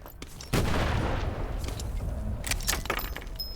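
A delayed grenade goes off in the World War II video game Medal of Honor: Above and Beyond, a sudden loud blast followed by a rumbling decay and scattered debris-like clatter.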